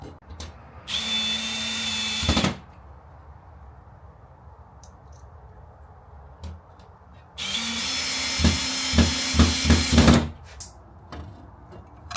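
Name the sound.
power drill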